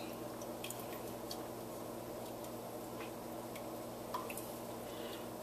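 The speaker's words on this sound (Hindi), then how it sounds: "और निकाल करके इसका पानी अच्छी तरह से निकाल दिया" Blanched spinach, cooled in ice water, is squeezed out by hand in a home kitchen. Faint drips and soft squishes of draining water sound over a steady low background hiss.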